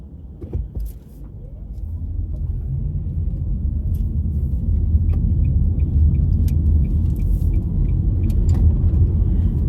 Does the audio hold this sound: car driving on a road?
yes